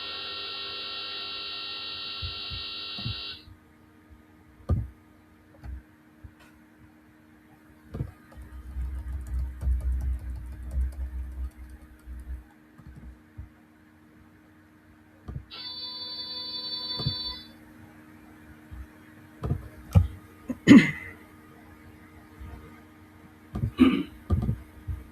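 Real-world AM medium-wave radio signals received through a software defined radio: tonal bursts and sweeping carriers come and go over a steady hum, with crackling static, a low rumbling patch and sharp clicks in between.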